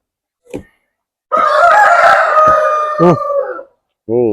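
A Coimbatore-breed rooster lets out one loud, drawn-out crow up close, followed by a short clucking call, with brief pauses of silence around it.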